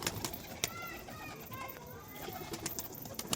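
Pigeons at a home loft calling with soft, rolling coos over a few seconds, partly mixed with brief louder knocks and rustling, under a faint background bed of outdoor noise.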